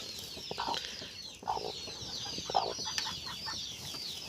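A hen clucks in short, intermittent bursts close by, with faint high peeping and rustling in the background and no talking.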